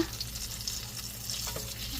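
Steady frying sizzle from zrazy in a hot pan, a continuous crackling hiss with small pops, close and moderately loud, no voices.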